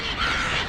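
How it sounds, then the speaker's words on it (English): Crows cawing overhead outdoors, with pigeons nearby, a harsh, loud, continuous caw filling the moment, close and clear with no voices. "Crows are up above."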